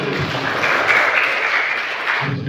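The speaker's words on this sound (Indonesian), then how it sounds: "Tepuk tangan dulu." Applause from a primary-school classroom after a group presents its answer, a short burst of steady clapping lasting a couple of seconds with no talking over it.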